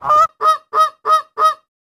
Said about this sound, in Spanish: Ganso.